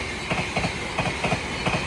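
An express train rushes past at speed with loud, steady rolling noise and a regular clickety-clack of wheels over rail joints.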